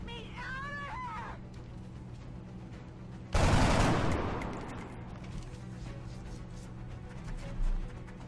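A sudden loud burst of gunfire in XCOM, a single heavy volley that decays slowly after quieter ambience with a warbling alien sound, and a brief thump later.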